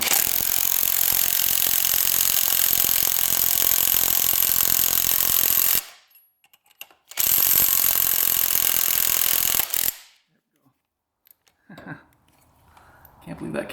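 A puller being cranked on a stuck nut on a 4x4 ATV, heard as loud continuous mechanical whirring in two long bursts separated by brief silence, followed by quieter clanking.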